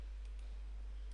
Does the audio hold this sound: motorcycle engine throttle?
no